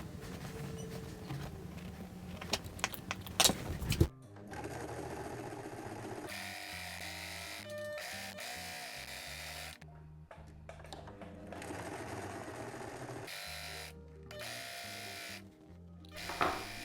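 A sewing machine topstitches a summer dress just above the elastic, its motor running in steady bursts of fast stitching with short pauses between, close and loud and with no talk.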